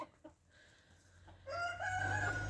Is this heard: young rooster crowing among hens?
yes